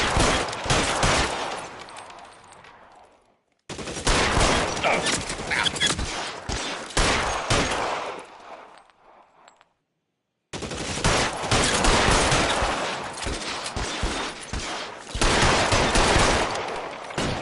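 Sustained gunfire rattles through an LA Noire shootout, dense bursts of overlapping shots in three long stretches broken by brief silences, loud and close with no voices.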